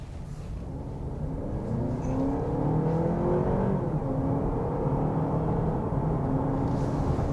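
A 2023 Honda CR-V Hybrid accelerates during a test drive, its engine whir rising in pitch and holding at a steady, fairly loud drone heard from inside the cabin, with no talking.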